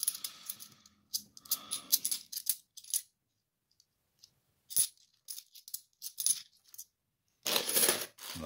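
Coins are handled and dropped during a £2 coin hunt, giving close, sporadic metallic clinks and rattles in short bursts separated by quiet gaps, with no talk.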